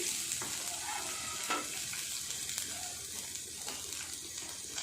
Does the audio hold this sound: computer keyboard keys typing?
no